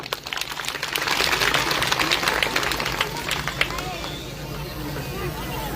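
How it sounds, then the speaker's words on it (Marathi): Applause and cheering from the audience at a Home Minister game show event, a dense, sustained crowd clapping that rises early and holds steady, with murmuring voices mixed in. "जोरदार टाळी"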